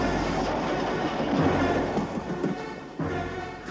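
A cartoon train rumbles across a bridge with a steady, dense roar and faint clickety-clack, loud and continuous, with a brief dip near the end.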